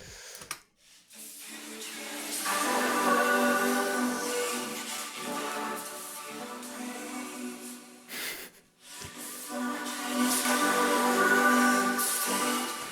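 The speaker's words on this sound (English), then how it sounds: "So the vocoder itself sounds like this." A vocoder synth pad in FL Studio plays alone, a breathy, airy chordal tone that swells in, holds, drops out briefly and returns, fairly quiet and with no voices.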